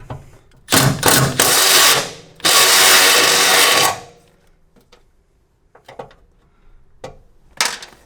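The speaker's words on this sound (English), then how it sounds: "So what I'm going to do is I'm going to drill it out." A power drill whirs in two loud bursts of a few seconds each, drilling out a hole to fit an insert for a bedside MOLLE rack on a 2019+ RAM pickup, followed by quieter scraping and handling noises.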